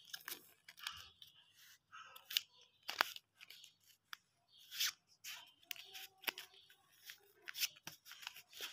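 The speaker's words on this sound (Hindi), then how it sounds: "इनको मैं मिक्स शफल करना है" Playing cards are shuffled by hand for a horror card challenge game, making soft, irregular riffles and flicks in short close bursts.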